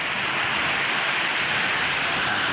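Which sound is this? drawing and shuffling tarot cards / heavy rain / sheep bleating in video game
heavy rain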